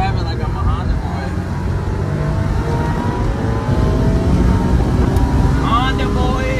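A Daihatsu Mira drives and accelerates with a steady, loud engine and road rumble heard from inside the car, rising slightly in pitch as it speeds up, with muffled voices in the background.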